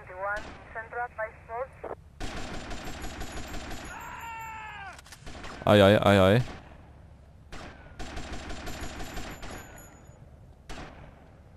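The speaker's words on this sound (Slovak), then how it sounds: "Kto tu furt strieľa? Jak divý." Rapid bursts of gunfire from GTA: Vice City rattle in several separate volleys, loud and close, with a voice speaking between and over the shots.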